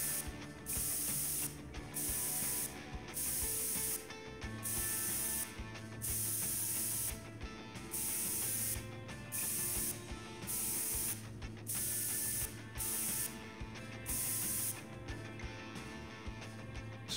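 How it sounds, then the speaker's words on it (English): Cleaning spray is pumped in the video game Prison Simulator: repeated loud hissing bursts about a second long, each with a mechanical ratcheting click, recurring in a steady rhythm. "Alright, spray."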